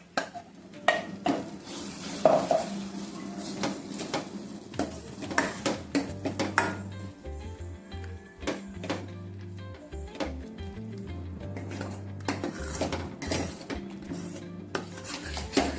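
Ground paste of soaked chana dal with turmeric being stirred and sautéed in a pan, a steady run of scraping, spoon-on-metal knocks and soft frying over about sixteen seconds, with no talk.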